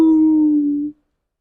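A single dog howl sound effect from a children's storybook reading, loud and close, holding one steady drawn-out tone for about a second before it stops abruptly.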